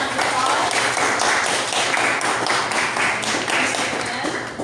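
Audience at a college presentation question-and-answer session applauds, a dense, steady patter of clapping that fills the room and then tapers slightly at the end.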